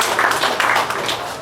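An audience claps for the Korpol group at an Indonesian Independence Day gathering in Jeddah, with dense, steady applause at close range.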